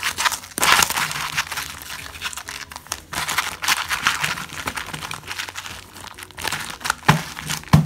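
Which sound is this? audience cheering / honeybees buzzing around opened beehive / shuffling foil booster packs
shuffling foil booster packs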